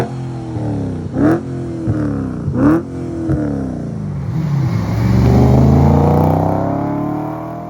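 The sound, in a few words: Audi RS4 B7 engine starting and revving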